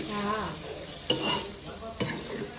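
Pomfret fish frying in oil while being stirred, a loud close sizzle with two distinct scraping stir strokes, no talking.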